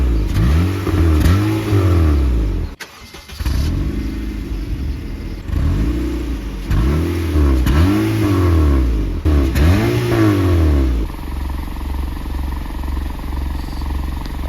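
A car engine fitted with an exhaust tip revs hard in repeated bursts, rising and falling loudly up close, then settles into a steady, throaty idle.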